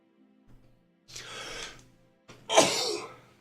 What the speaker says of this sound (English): You get 2 sneezes.